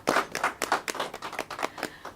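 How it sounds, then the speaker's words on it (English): A small audience applauds a published member of a writers' forum, a short burst of uneven hand claps that rises quickly, stays busy for a couple of seconds and thins out toward the end. "Can we give her a round of applause?"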